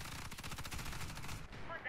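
Rapid bursts of automatic gunfire in the online shooter game Warface, a loud rattling volley of closely spaced shots that cuts off near the end.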